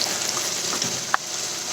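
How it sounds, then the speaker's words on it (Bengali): Chopped onion and garlic frying in a pan for a Bengali dried-fish dish, a steady close hiss and sizzle with scattered small pops and one sharp crackle partway through. "পেঁয়াজ রসুনটা ভেজে নিব"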